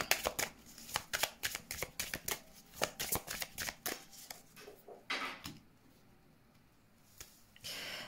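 Tarot cards are shuffled by hand in rapid, close riffling bursts, a steady run of crisp papery flutters that tapers off near the end.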